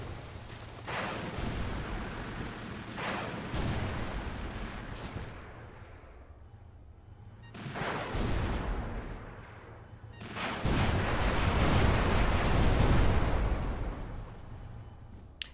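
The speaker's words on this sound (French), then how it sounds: "Ces munitions arrivaient à détruire mes missiles, c'est embêtant ça." Gunfire and missile explosions from the video game Project Landsword, heavy booming blasts arriving in loud bursts with brief quieter gaps, building to a sustained roar near the end.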